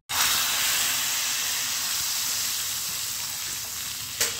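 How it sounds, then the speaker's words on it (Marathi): Oil tempering with Kashmiri red chilli and chilli powder for a vegetable dish, giving a steady, loud, close hiss of sizzling that continues without pause, with a brief sharper burst near the end and no talking. "आणि इथे मी तडका तयार करते आहे."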